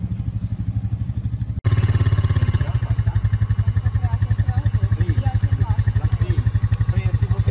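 A quad bike engine idles and chugs nearby in a steady loud pulsing rhythm, briefly cut off and then running again with clattering, while people talk over it.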